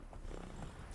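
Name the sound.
horse Roach trotting in the video game The Witcher 3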